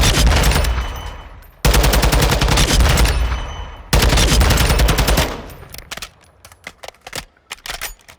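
Sustained full-auto bursts from a TAQ 56 assault rifle in the shooter game Call of Duty: Modern Warfare II, loud and close, with two long continuous strings of rapid fire followed by short broken bursts.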